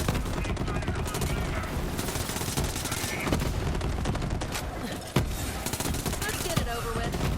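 A Kaoson submachine gun in Borderlands 3 fires in a steady, rapid stream of shots, close and sustained, with explosive hits and a few brief louder pops.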